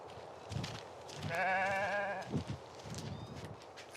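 A single wavering goat bleat rises for about a second, surrounded by soft thumps and shuffling sounds, on Colombia's desert coast.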